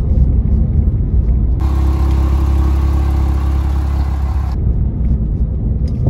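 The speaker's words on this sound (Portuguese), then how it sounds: "ainda é aquele purinho atmosférico, aquela sonoridade típica da Porsche" Naturally aspirated Porsche Cayman 2.7 engine running steadily, a loud, continuous mid-engine drone with a brighter, rising edge in the middle as revs climb, then settling back.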